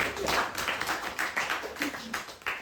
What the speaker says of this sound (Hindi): एक बार नेताजी के लिए जोरदार ताली।